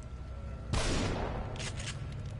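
A sudden burst of gunfire erupts in the survival-horror video game The Evil Within, a loud broadband blast followed by a decaying rumble and a few faint trailing crackles.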